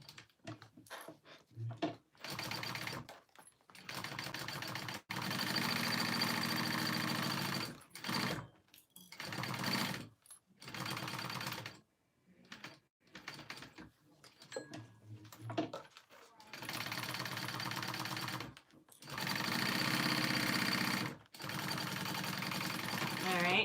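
A sewing machine basting a seam and pocket flap runs in repeated bursts of steady whirring stitching, separated by short pauses, with someone talking at times.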